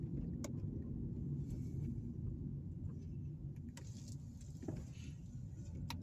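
Car cruising down Powell Street past late 19th and early 20th century homes in Evansville, Indiana, heard from inside as a steady low road rumble with a few faint clicks and bumps.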